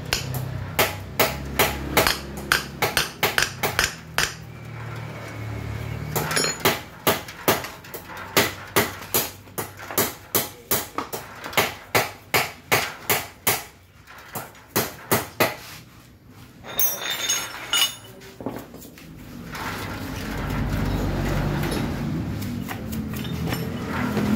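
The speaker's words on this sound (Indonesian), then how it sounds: "Kalau misalkan tidak mau melakukan getoknya seperti ini" Repeated hammer blows knocking out the rivets of a clutch rubber, a steady run of sharp metallic strikes at close range that thins out midway, followed by duller knocks and a grinding rumble.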